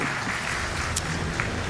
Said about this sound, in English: Round of applause for Shout